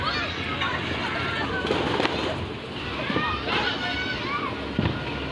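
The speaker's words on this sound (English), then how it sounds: "Wow, fireworks show." New Year fireworks in Bacolod City crackle and pop in scattered bursts at a moderate distance, mixed with shouting and talking voices throughout.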